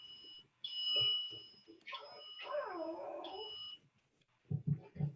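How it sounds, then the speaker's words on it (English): Kitchen timer beeping during a baking class for almond cookies, a shrill high tone in repeated bursts alongside a warbling whine, followed by a few brief sounds of someone speaking. "my timer already went off"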